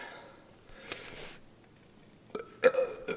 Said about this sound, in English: And got a burp, hold on.